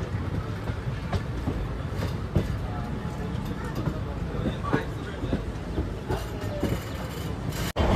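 At an Indian railway station on a trip from Mumbai, a train rumbles along with a low rolling noise and scattered metallic clicks and knocks, while people's voices murmur faintly in the background.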